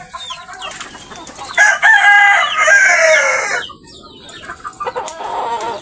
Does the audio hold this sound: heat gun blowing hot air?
no